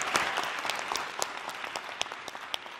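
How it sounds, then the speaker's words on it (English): Steady applause from an audience at a Shakespeare monologue and scene contest in a Pittsburgh theater, a dense wash of many hands clapping throughout with no voices standing out. "Round of applause for everybody."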